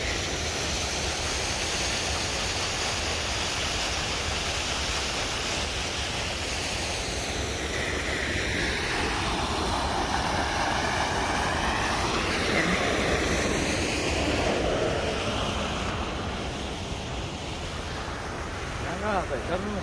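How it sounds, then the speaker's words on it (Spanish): Water runs and rushes steadily beside a cardboard and paper factory, a loud continuous roar mixed with outdoor wind noise and faint voices. "Pues miren, aquí está corriendo todo el agua."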